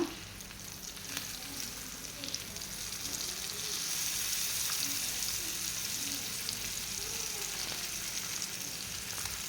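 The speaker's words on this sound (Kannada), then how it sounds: "ಈಗ ಒಂದು ಸೈಡ್ ಫ್ರೈ ಆಗಿದೆ ಇನ್ನೊಂದು ಸೈಡ್ ಮಗಚಿ ಹಾಕ್ಕೊಳ್ಳೋಣ" Dover sole fillet frying in a pan after being flipped, a steady low sizzle and crackle running evenly throughout, fairly quiet and close, with no voices.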